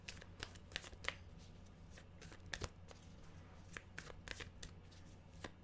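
Tarot cards are shuffled steadily by hand, producing a soft continuous run of papery flicks and taps at a faint level over a low steady background hum.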